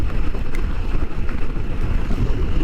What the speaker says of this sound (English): It's a decent little squall.